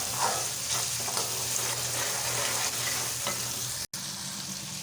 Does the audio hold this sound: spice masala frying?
yes